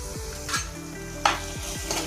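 Ginger garlic paste frying with onions in a pan for Andhra-style fish curry, a soft steady sizzle with a few scraping stirs and light utensil knocks, close and alone.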